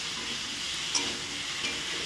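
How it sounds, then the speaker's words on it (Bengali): Slices of pumpkin fry in a pan with a steady, close sizzle and hiss, a few faint pops rising from the constant frying noise and no talking. "আজকে রান্না করছি কুমড়ো ভাজা"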